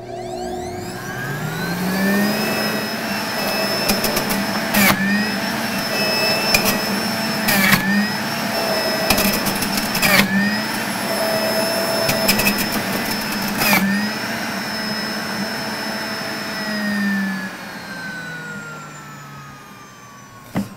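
An electric juicer grinding pineapple, apple, ginger and carrot, a loud steady motor whine with rising pitch sweeps and several sharp thumps as pieces drop through, running continuously for about twenty seconds.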